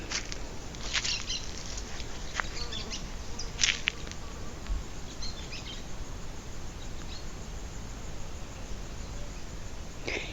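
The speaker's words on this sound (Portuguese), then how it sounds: "agora essa hora as abelhas estão zunindo aqui à volta" Bees forage over a farm pasture grazed by cows, goats and sheep, giving a faint, steady outdoor buzz under broad wind-like noise, with a few brief louder passes nearby.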